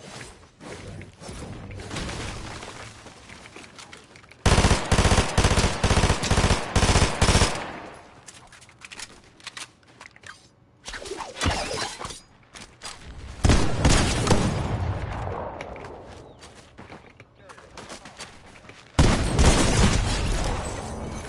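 Bursts of rapid automatic gunfire from a shooter video game, loud, close and dense, come in several separated volleys with quieter stretches of thuds and mechanical sounds between them.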